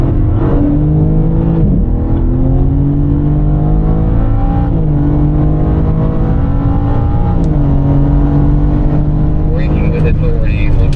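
A BMW M4 on the Desert Palm Circuit accelerates hard out of a corner, the engine note climbing steadily through the gears with brief dips at upshifts, loud and close inside the cabin, with a voice talking over it.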